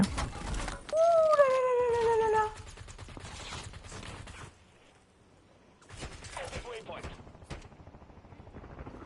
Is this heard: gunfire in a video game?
yes